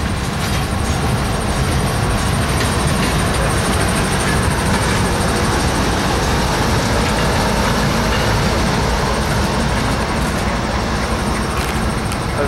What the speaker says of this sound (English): train's going faster now